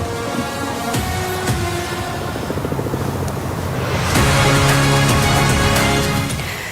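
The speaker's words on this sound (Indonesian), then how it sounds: "Sebuah helikopter terjatuh saat uji terbang rendah di kota Changzhou, China." A helicopter on a low-altitude test flight in Changzhou, China, drones nearby with a rapid rotor chop and whine, the engine noise growing louder and brighter over the last few seconds.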